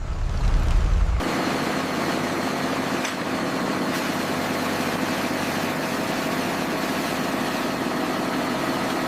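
A heavy winch hauls tensioned cables to lift a crashed airplane in the jungle, giving a loud, steady mechanical drone with a low rumble that holds constant throughout after a brief louder start.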